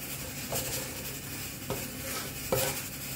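Something frying gently in a pan over a low gas flame, a soft, even sizzle throughout with a few light scrapes and clinks of a utensil against the pan at spaced intervals.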